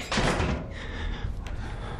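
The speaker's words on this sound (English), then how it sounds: "Don't slam the door." A heavy door slams in the horror video game Outlast, a loud thud at the start that trails into rumbling low noise and a faint creak, with no voices heard.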